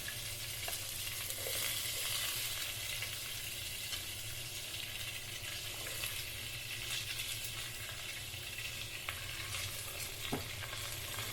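Onion frying in olive oil with curry leaves and spices, a steady close sizzle and crackle running the whole time with a few faint stirring scrapes, no voices.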